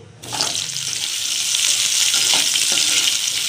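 Cauliflower florets dropped into hot mustard oil with black cumin seeds in a wok, bursting into a loud, steady sizzle that builds after a brief quiet start and carries on with soft stirring scrapes.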